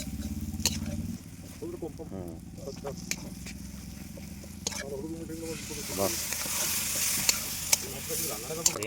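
Duck meat stirred and fried in a pan, steady sizzling with scraping stir strokes that grow louder and brighter toward the end, with people talking over it.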